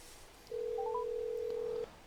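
A steady electronic tone sounds for just over a second, with a few brief higher beeps at its start, over a faint background hum.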